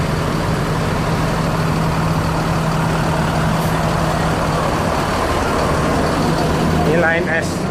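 An ANS intercity bus on the road at night, heavy engine droning steadily and loud throughout with a low hum, then a brief whine near the end as it overtakes other buses.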